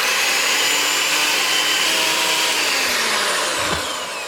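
Eggs are beaten hard in a bowl for a boiled custard, a loud, continuous whirring drone that holds steady throughout and eases off slightly at the end.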